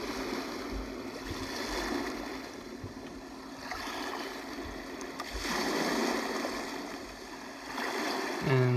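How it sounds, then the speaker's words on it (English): Ocean setting on a Big Red Rooster white noise machine: a steady broadband wash of surf with slow swells rising and falling, continuous and fairly close, with no talking over it. "Ocean."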